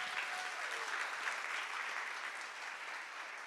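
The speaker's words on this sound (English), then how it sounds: "Let's give another round of applause." An audience at a community forum applauds steadily and continuously, a dense wash of clapping with no voices over it.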